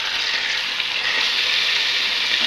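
Chicken pieces sizzling in a pan of fried onion, ginger and garlic while cooking chicken pilaf, a steady broad frying hiss that holds evenly throughout, close and fairly loud, with no voices.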